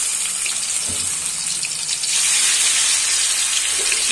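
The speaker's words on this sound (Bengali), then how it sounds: "এবার আমি ম্যারিনেট করা চিকেনটা এর মধ্যে দিয়ে দেব" Marinated chicken goes into hot oil with whole cardamom and garam masala, producing a loud, even, continuous sizzle that swells slightly partway through.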